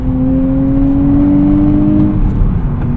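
A 2024 Nissan Z with a six-speed manual revs high under load on a highway, its engine holding a loud, steady, rising tone close by with road rumble underneath and no talk.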